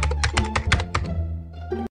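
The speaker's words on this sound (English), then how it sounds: "What are you typing?" Quick typing on a computer keyboard, a fast run of loud, close, clacky keystrokes that slows to a few scattered taps, no talking.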